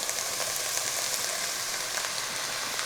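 Sausage frying in a cast iron pot with a dense, steady, hissing sizzle, close and even throughout, with only faint crackles and no voices.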